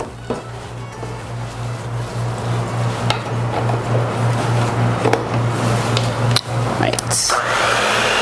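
Electric hand mixer working gluten-free cookie dough, a steady motor whine running throughout with intermittent knocks of the beaters against the bowl; one short spoken word at the start.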